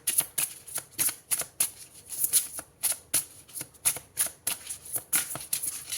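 Oracle cards are shuffled close by in steady, rhythmic riffling bursts, each a crisp papery flutter repeating about twice per second with no voice over it.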